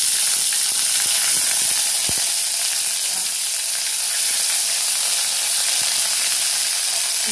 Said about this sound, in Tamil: கடுகு புரியிற நேரம் வந்துருச்சு.